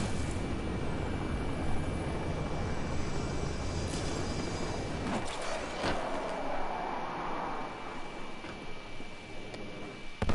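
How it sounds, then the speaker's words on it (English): A giant drone in a Batman video game flies overhead as a steady, loud mechanical rotor drone with broadband engine noise throughout, easing slightly partway through. "It's a giant drone."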